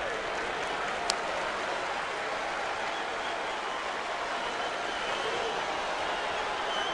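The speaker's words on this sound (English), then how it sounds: "And now this growing crowd sensing some early action here with 2 down." Crowd murmur and cheering fills a major-league ballpark during a Kansas City Royals versus Cleveland Indians game, a steady broad roar with one sharp crack near the start and no clear voices on top.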